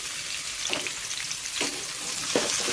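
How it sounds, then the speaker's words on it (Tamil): Sliced onions and green chillies fry in hot oil for a dosa side dish, giving a steady close sizzle broken by three scraping stirs, with no talking. "இப்போ வந்து நம்ம எடுத்து வச்சிருக்கிற வெங்காயம் போட்டுக்கலாம் வெங்காயம் பச்சை மிளகாயும் நான் சேர்த்துக்கிறேன்"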